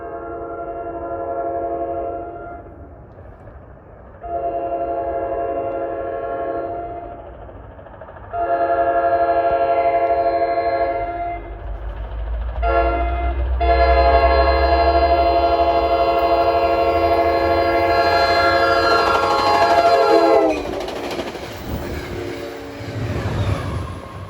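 NJ Transit deadhead train X04 approaching on the mainline, its horn sounding several long blasts in the classic crossing pattern, growing louder as rumbling wheels and engine close in and pass nearby.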